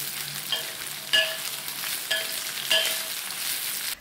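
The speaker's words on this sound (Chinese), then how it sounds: "再倒入芹菜段，翻炒均匀" Onion, garlic and celery stir-frying in a wok, a continuous bright sizzle broken by several sharp scraping turns of the spatula at regular intervals, with no voices.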